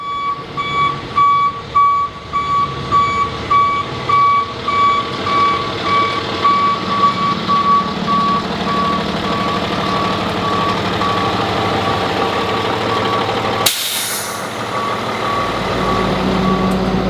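A truck backs up with its reversing alarm beeping steadily in a regular on-off rhythm over the engine rumble, close and loud, with a sudden clatter near the end.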